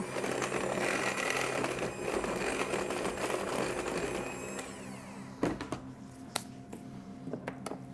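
An electric mixer whirs steadily through softened butter for hot cross buns, a busy buzzing drone that cuts off partway, followed by a few faint clicks and knocks.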